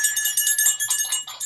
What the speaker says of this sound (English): that is the reminder bell